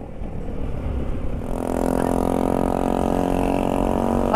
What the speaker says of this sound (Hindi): इस बाइक का साइलेंसर ही टूट गया।